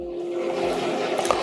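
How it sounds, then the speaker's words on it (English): An ocean-waves alarm tone plays from a small Divoom Ditoo retro speaker, a brief steady wash of watery noise at moderate level. "you can choose what type of sound you want on when you waking up. So, for example, you can have ocean waves."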